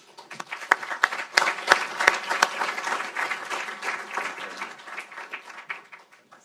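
An audience applauds to welcome Congressman Blumenauer to a keynote on autonomous vehicles. The clapping is steady and fairly close, starts with a few sharp claps, swells, then fades toward the end.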